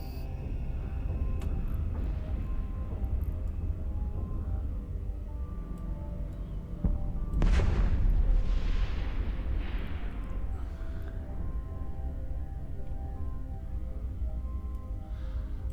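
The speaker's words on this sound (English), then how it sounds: "I'm telling you, these explosions are just so good" Explosions and artillery-like blasts in a war video game, one heavy boom near the middle rising over a steady roaring din of gunfire and rumble.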